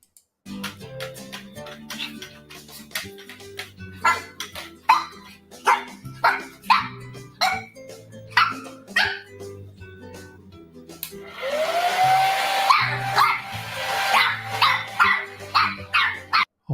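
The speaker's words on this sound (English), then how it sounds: "That is a puppy right there." A Shih Tzu or Lhasa Apso puppy yaps in quick repeated high barks, close and loud, with a brief whimpering whine partway through over a steady background hum.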